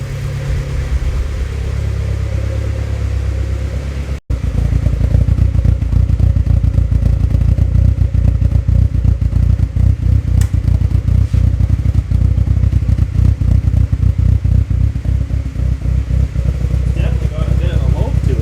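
A turbocharged SOHC Honda Civic D16 engine with locked VTEC idles with a steady, rumbling, slightly lumpy note and no valve clatter, heard close up while people talk over it.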